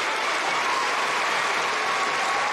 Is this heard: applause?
yes